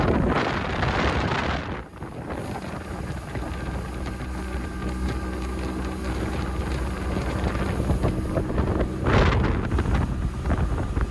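A Trophy 1802 walkaround boat under way at about 16 knots, driven by a Mercury 115HP OptiMax outboard, gives a steady engine drone layered with heavy wind buffeting on the microphone and water rush, loud and continuous throughout.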